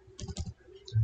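Quick clusters of keystrokes on a Dell laptop keyboard as a search is typed into a web browser, close and crisp with a short pause between bursts.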